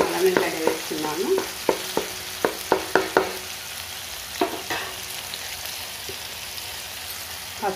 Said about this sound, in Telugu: ఇట్లా మంచిగా వేగిపోయినాయి కదా, కొంచెం అల్లం వెల్లిగడ్డ వేస్తున్నాము.